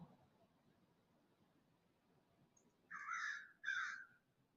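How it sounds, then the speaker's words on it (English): Crows cawing outdoors, two loud harsh caws in quick succession after a quiet stretch of faint background noise. "Yeah, crows after me, y'all."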